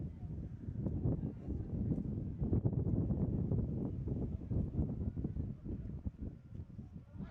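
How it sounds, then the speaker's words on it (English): Steady rumbling wind buffets the microphone in a continuous low roar at an outdoor high school baseball game, swelling and easing slightly over several seconds, with no clear voices. "Man, the wind, when the wind gusts, it really gusts."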